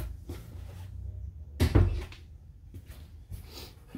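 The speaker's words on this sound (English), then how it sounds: "Nice barn sliding door." A barn-style sliding door inside a 2020 Keystone Bullet Premier 34BIPR travel trailer rolls along its track with a low rumble, landing a solid thud midway, followed by softer knocks.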